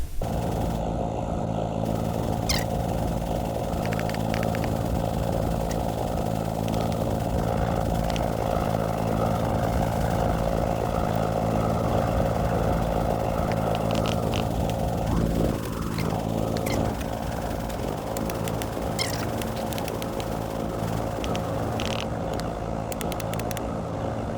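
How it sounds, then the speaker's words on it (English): Wind tunnels running on a huge mothership build in a video game, making a loud, steady mechanical drone with a constant hum and a whirring, propeller-like roar throughout, with no one speaking. "But now it's time for the wind tunnels."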